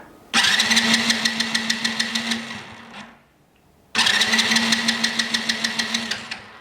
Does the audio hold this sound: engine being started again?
yes